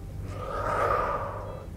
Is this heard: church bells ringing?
no